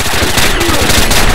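Rapid automatic gunfire from a gun in a video game, a loud, close burst of evenly spaced shots hammering continuously for about a second and a half.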